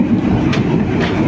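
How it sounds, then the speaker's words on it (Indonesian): The Airlangga passenger train clatters loudly into a station, with rumbling wheels and rhythmic clickety-clack heard close up. "kereta api Airlangga akan segera tiba ataupun berhenti stasiun Nakawur Gelis"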